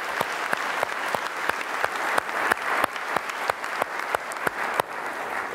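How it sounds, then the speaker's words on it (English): A conference crowd applauds steadily, a broad wash of many hands with several sharp, distinct claps standing out near the microphone throughout. "So let's give them a big round of applause."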